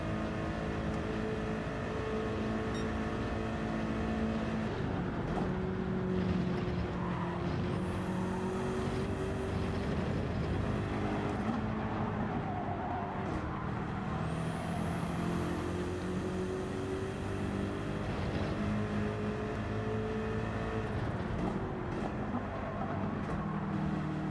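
A front-engined race car in the Gran Turismo 7 game at Watkins Glen, its engine droning steadily and loudly throughout with smooth rising and falling pitch as it shifts, plus a thin high whine, no talking.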